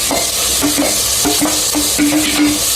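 Ground masala paste fries loudly with garam masala, a strong close sizzle under repeated rhythmic scraping and stirring strokes of a spoon against the pan.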